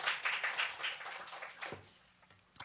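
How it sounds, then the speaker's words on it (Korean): A church congregation at Sunday worship claps in a short, fairly soft burst of applause that dies away after under two seconds, leaving near quiet with a faint knock at the end. "박수 쳐야 되는 분위기 아닙니까?"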